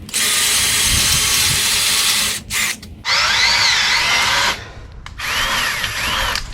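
A power drill runs a thread tap into a rear Ford F1 shock mount in three loud, close bursts of whining motor and grinding metal, separated by brief stops. Nobody speaks.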